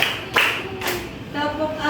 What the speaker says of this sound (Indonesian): Namanya tepuk berpola